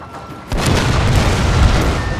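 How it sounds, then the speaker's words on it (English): Artillery guns firing in the Total War: Fall of the Samurai video game, a heavy booming blast that starts abruptly and rumbles on loudly for about a second and a half. "the artillery is still firing? Yeah, you should still fire."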